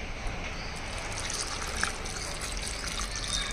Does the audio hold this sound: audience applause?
no